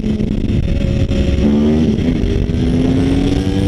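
A motorcycle engine held at high revs during a wheelie, loud and close, its pitch climbing in steps as the throttle opens, with no talk.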